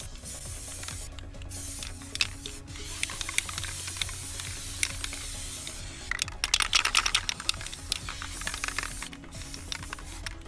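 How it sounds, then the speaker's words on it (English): Spray paint hisses onto water in a tub for hydro dipping a flower pot, in steady bursts with faint ticking and rattling, close and fairly loud, with no talking. "And we're gonna swirl it around, make a nice cool effect. Keep spraying"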